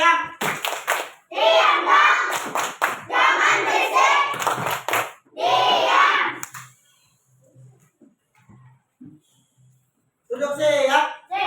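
A class of children chants and claps the 'tepuk diam' routine in Indonesian, with bursts of crisp, rhythmic hand claps over loud group voices for about six seconds, then near quiet before the chant resumes.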